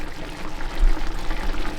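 A cornstarch and water slurry is poured into a boiling sweet and sour pork sauce, giving a continuous bubbling, liquid rush that is moderately loud and steady for the full stretch.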